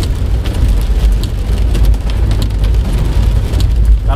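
Light drizzle patters on a 2016 Toyota Calya E 1.2 manual while driving in traffic, a steady soft hiss of drops over a low, constant engine and road rumble heard from inside the cabin.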